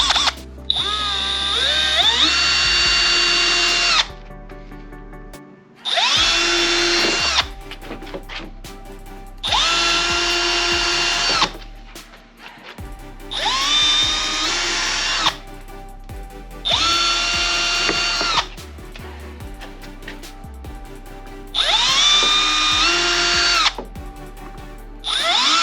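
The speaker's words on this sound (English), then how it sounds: "And I've got my trusty drill." A power drill whines loudly in repeated long bursts, enlarging bolt holes in a Honda S2000 bumper, pitch rising and falling as it bites into metal, with short pauses between runs.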